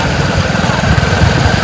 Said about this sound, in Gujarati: જોઈ લો અલ્પેશ બાઇક ચલાવે પ્રોપર કમ્પ્લીટ.